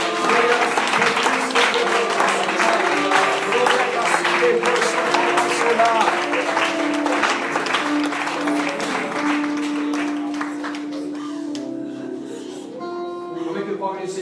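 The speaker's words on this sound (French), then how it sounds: "Applaudissons le Seigneur." A church congregation claps along during a French-language worship service, with steady dense applause over sustained music and voices that fades a little toward the end.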